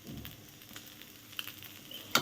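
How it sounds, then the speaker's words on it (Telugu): Dosa batter frying on a hot pan in a home kitchen, a quiet steady sizzle with faint crackle and a brief sharper scrape near the end. "ఇప్పుడైతే నేను దోశలు వేసుకుంటున్నాను అనమాట"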